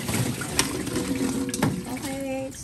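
Liquid poured over kamias fruit while preparing pickled kamias, a steady splashing pour with a few clinks, close by, with a voice speaking briefly over it.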